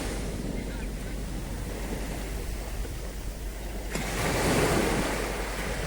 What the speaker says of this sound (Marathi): समुद्राची लाटा येतात येतात येतात